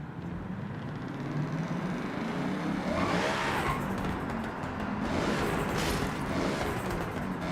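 Turbocharged car in the Forza Horizon 6 racing game, a sustained loud engine drone with rising revs and turbo whoosh, and tyre noise building toward the middle, with no talking.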